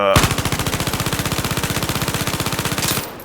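An AKS-74U rifle in the video game Zero Caliber fires one long, fast automatic burst lasting about three seconds. The evenly spaced sharp reports are loud and close, with no talking over them.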